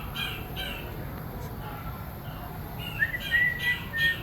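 A Cape thick-knee calls inside a zoo bird house, with thin, high, whistled notes rising near the end over a steady low hum of indoor background noise.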